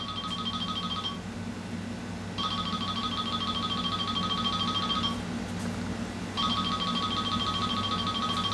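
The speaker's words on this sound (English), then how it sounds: "Excuse the cell phone." A cell phone rings in a workshop beside a model railroad layout, a steady electronic tone repeating in three long bursts with short gaps, clear and fairly close over a low background hum.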